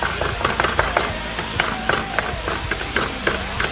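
Chopped meat is broken up with repeated scraping, tapping strokes in a pan as it cooks, irregular clacks over a steady background sizzle.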